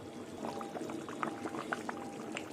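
Ghee is poured into a simmering shrimp and jackfruit curry with whole garlic, giving a quiet liquid trickle over low bubbling, faint and close.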